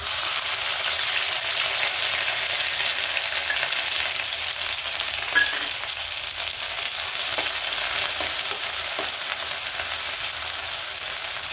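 Crushed green chili thecha frying in hot oil with mustard seeds and cumin: a dense, continuous sizzle that holds steady throughout, with a few faint spoon scrapes and no voices.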